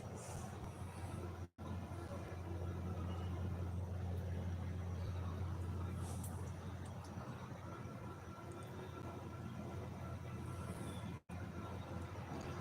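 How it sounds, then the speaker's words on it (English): Garbage truck passing outside a home, a faint, low engine rumble heard from a distance that holds steady with a couple of brief dropouts. "They hear the garbage truck."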